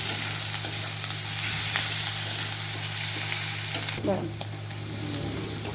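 Turmeric and chili powder fry in oil in a pan, a steady close sizzle with a few stirring scrapes partway through and no talk.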